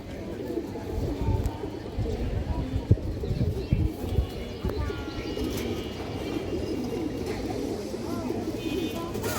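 Several domestic pigeons kept for sale coo in soft repeated throaty calls close by, with faint chirps and a little wing movement, under a person talking.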